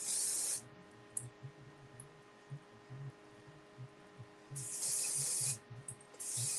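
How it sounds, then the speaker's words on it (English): Two long hissing bursts of Farmasi hairspray sprayed at the hair roots, one at the start and a longer one near the end, with quiet rustling and small clicks in between. "I like to spray at the root just to give a little more volume, a little bit more zhuzh."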